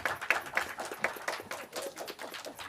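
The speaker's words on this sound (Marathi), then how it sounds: "थोड्याशा टाळ्या होऊन जाऊ देत।" Audience applause breaking out in a hall, a dense patter of many hands clapping at a steady moderate level, irregular and continuous for a few seconds with no voices over it.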